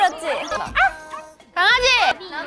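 A voice imitates a dog, giving a few quick yipping, whimpering bark sounds in short bursts, close and loud, amid playful talk.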